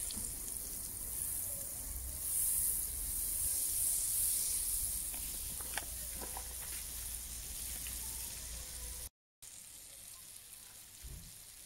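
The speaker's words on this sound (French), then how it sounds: "je commence par mettre mon beurre, donc mon carré de beurre que je vais laisser fondre avant de rajouter mon huile" Butter melting in a pan to cook sole meunière gives a steady, moderate sizzle with a soft hiss throughout, a brief dropout near the end, then a quieter, continuing sizzle.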